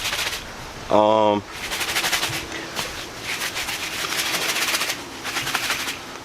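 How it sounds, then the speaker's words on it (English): Rapid dry rattling clatters in bursts as loose charcoal shakes inside a Hyundai Tiburon's charcoal canister, hollow-sounding, with a brief tonal beep near the start. "I can still hear the charcoal in there."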